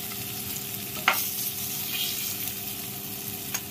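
Hilsa fish fries crisp in a pan with a continuous close sizzle, punctuated by a few sharp clinks and scrapes of a spatula, and no voices are heard.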